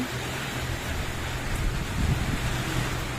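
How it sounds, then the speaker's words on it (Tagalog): Heavy typhoon rain pours steadily while strong wind roars through it, a thick, continuous wash of noise with a low gusting rumble, during a Signal No. 3 storm in San Pablo City, Laguna. "malakas na yung hangin at ulan."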